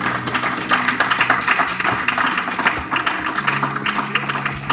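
A church congregation applauding and cheering after a prayer, dense clapping with scattered shouts of acclaim filling the room at a steady, lively level.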